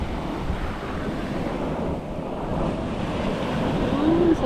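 Ocean surf washes onto the shore of Saraya Island in a continuous churning roar with gusty wind buffeting the microphone, rising slightly toward the end.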